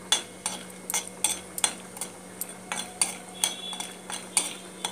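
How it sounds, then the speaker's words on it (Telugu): Peanuts fried in a pan are stirred with a utensil, giving a steady series of sharp scraping clicks about twice a second over a soft background sizzle, close up with no talk. "పల్లీలు వేసుకొని ఫ్రై చేసుకుందాం."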